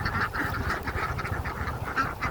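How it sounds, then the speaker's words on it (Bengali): A flock of farm ducks heading toward water quacks continuously at close range, a dense, overlapping, nasal chorus with no break and no one speaking. "এই যে আমাদের ভাই হাঁস এখন সব পানিতে নামবে।"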